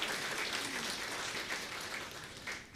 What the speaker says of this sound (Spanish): entonces un aplauso, ¿sí?, para ellos,